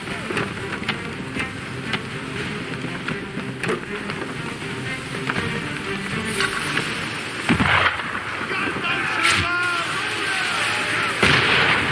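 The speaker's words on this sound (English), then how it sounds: "Why is he shooting at us?" Gunfire aimed at the player in Assassin's Creed 3, dense and noisy with sharp cracks at irregular moments over a thick rumbling, rain-like background, and a voice briefly heard.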